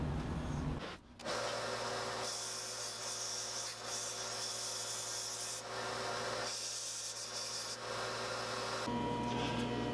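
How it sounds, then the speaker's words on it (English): A small belt sander smooths sharp edges, a continuous gritty rubbing hum with steady tonal drone, broken by a brief pause near the start and slight dips as the workpiece shifts. "I'll do that over the little belt sander"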